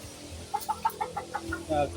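A chicken clucks in a quick run of short, evenly spaced notes, rising into a longer squawk, with faint background noise.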